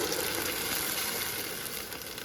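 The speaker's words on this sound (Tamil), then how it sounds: "அரைச்சி வச்சிருக்கிற அந்த பன்னீரை ஊற்றிடலாம்" Ground paneer paste goes into a pan of simmering gravy with capsicum, giving a steady, close, even sizzling hiss with a faint bubbling texture and no talking.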